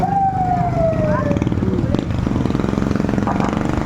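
A police car siren rises and passes through slow, heavy traffic on a road toward Tibig in Lipa, loud and close at the start and then fading into the rumble of engines, with people talking inside a vehicle.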